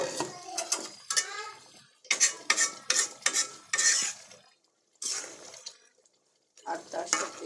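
Fried fish pieces stirred into a pan of simmering fish masala, a utensil scraping and clattering against the pan in busy bursts with brief pauses, close and fairly loud with no talk.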